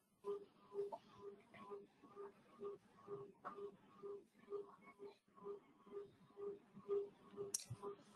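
Quick computer mouse clicks during a virtual SQL Server conference demo, a fairly steady run of soft, close taps across the whole stretch.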